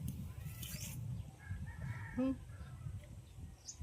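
A single chicken gives a brief cluck in a quiet setting, with soft background noise and faint murmuring around it.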